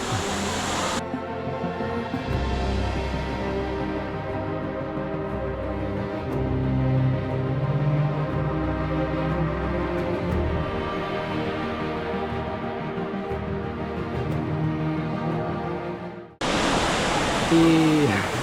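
Bambarakanda waterfall in Badulla, Sri Lanka, gives a continuous broadband roar of falling water that stays steady throughout, with faint voices underneath.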